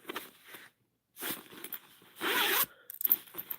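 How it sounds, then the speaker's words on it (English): A recessed zipper on a handmade tote bag being pulled open and shut in several short, bright rasping strokes with brief pauses, close and fairly quiet. "You have a nice recessed zipper."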